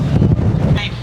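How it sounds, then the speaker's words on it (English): Strong wind buffets the microphone out at Hoover Dam, a loud, continuous low roar with no break across the short stretch. "Very windy out here."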